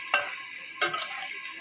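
Paneer cubes fry briefly in an oiled pan with a soft, steady sizzle. Two sharper bursts of stirring and spatter break through it, and there is no talk.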